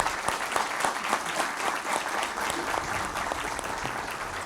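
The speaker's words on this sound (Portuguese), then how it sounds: "Uma salva de palmas aos empossados." Steady audience applause greets newly inducted directors of the ACSP (Associação Comercial de São Paulo) at a swearing-in ceremony, dense continuous clapping from a crowd filling the whole stretch without pause.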